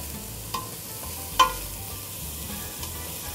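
Spicy beans simmering in coconut milk give a soft, steady sizzle and bubbling, with a few faint clicks of stirring and one sharper tap near the middle.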